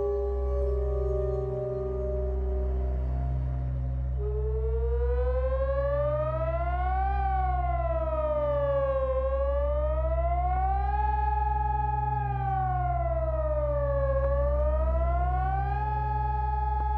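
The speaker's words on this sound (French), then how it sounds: "Quand j'entends les sirènes, tous les mercredis" Civil defense sirens sound during the monthly Wednesday test in France, a loud, steady wailing tone that rises and falls in slow repeated sweeps over a constant low hum.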